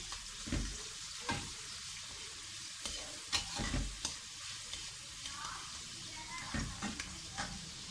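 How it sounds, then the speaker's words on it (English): Onions frying in a pan toward golden brown, a soft continuous sizzle broken by several low scraping thumps as a utensil stirs them, fairly quiet and close. "Stir the onions, let it become a little bit golden brown."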